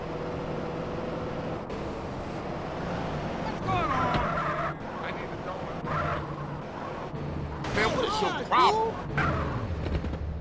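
A car driving through the streets of Grand Theft Auto: San Andreas, its steady engine hum rolling on with game noises and sharp bursts layered over it, while voices talk throughout.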